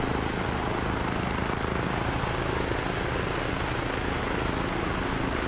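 A helicopter in the game ARMA 3 fills the whole stretch with a steady rotor thrum and engine drone, loud and constant, with no voices over it.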